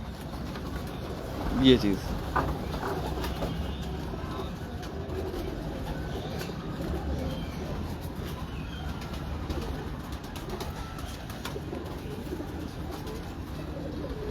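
Pigeons coo in a home loft that holds a large Main Pine pigeon, a soft cooing over a steady low murmur, with a brief louder call near the start and someone talking throughout.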